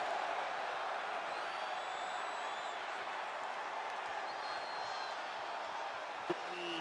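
Wrestling arena crowd cheering, a broad continuous roar of many voices at moderate level, steady throughout with no distinct peaks and one brief knock near the end.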